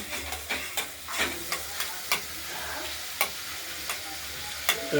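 Fish fat melting and frying in a hot pan, giving a steady crackling sizzle punctuated by regular sharp pops and spoon scrapes, close and moderately loud with no voices.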